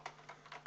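Quick light keystrokes on a computer keyboard, a handful of soft clicks in irregular rhythm, close and quiet over a faint steady hum.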